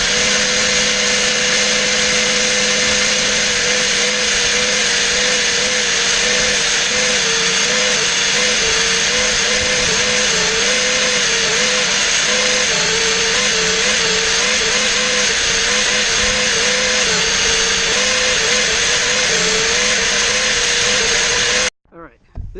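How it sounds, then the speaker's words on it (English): A DeWalt random orbital sander smoothing wooden coasters, running loud and close in a steady, unbroken whine for over twenty seconds before cutting off abruptly at the end. "And then we'll finish them off with a random orbital sander"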